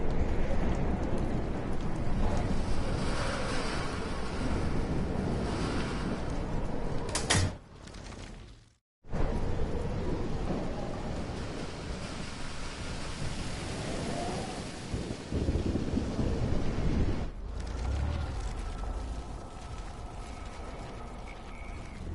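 Heavy rain and rolling thunder from a storm in the Life is Strange video game, a dense roar that runs throughout, broken by a sharp crack and a brief drop near the middle.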